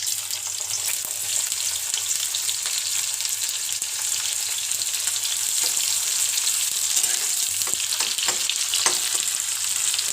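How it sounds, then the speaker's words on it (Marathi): Chopped onion frying in hot oil for street-style veg Schezwan noodles gives a loud, steady, close sizzle that holds evenly throughout, with no voices. "आता त्याच्यात मी आहे ना कांदा टाकते कापलेला."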